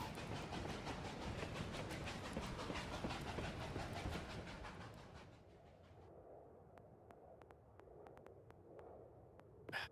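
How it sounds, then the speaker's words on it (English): Train in Battlefield 2042 chugging with steady rhythmic clattering pulses that fade after about five seconds, leaving sparse sharp clicks and quieter rumble; no talking. "He just likes the sound of chugging on my train"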